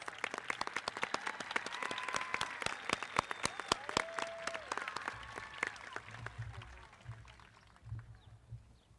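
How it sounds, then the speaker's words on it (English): Audience applause at a high school graduation honoring a student joining the Marines, heard as a dense burst of many hands clapping that thins and fades toward the end, with low rumbling thumps as it tapers. "Can we please give this student a round of applause?"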